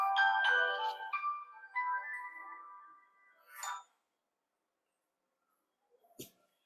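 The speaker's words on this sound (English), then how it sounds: "give me a second. I'm getting a call." A phone ringtone of an incoming call plays as a melodic chiming tune for about four seconds, fairly close and clear, followed by silence and a couple of faint clicks.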